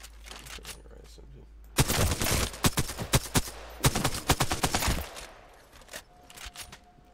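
Carbine fire in the video game Apex Legends: two loud, close bursts of rapid automatic shots, each lasting about a second or more, separated by a quieter gap with faint background noise.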